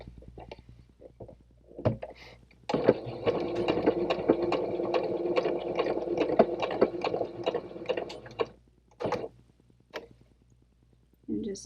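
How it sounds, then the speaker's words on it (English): A sewing machine stitching pieced fabric from top to bottom with reinforcing at both ends, a close, even rapid chatter lasting several seconds, followed by a few short bursts and quiet pauses. "I'm going to stitch from the top to the bottom, reinforcing at both ends"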